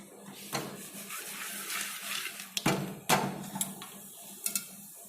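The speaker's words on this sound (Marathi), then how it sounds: "पातेल्यात लाह्या फुटण्याचा आवाज सुरू झालेला आहे." Popcorn kernels burst in a pot on a gas flame, giving sparse, irregular sharp pops and clicks over a low hum, fairly quiet.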